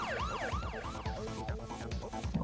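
Wailing emergency sirens from a film scene, with several overlapping rising and falling tones, heard at a moderate distance over low rumbling street noise.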